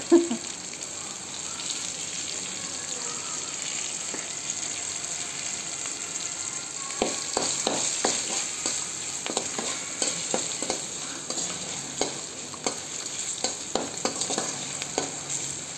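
Spices and turmeric frying in a pan, a steady close sizzle with scraping stirs and ladle taps growing busier toward the end, no voices.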